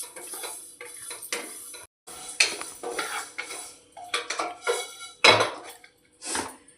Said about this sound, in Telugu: ఈ నువ్వులు, ఎండు కొబ్బరి, చెక్క, లవంగా, ఏలకులు కొంచెం దూరగా వేపుకోవాలండి.